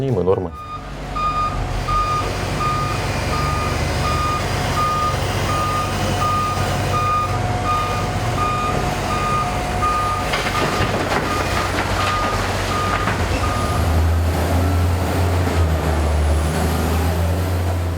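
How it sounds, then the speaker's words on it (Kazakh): A large underground mining vehicle in a mine runs with a steady heavy engine rumble and a repeating reversing beep, plus a few air-brake bursts. A voice talks intermittently over the machinery. "Өздеріңіз көріп тұрғандай, бұл өте үлкен машина."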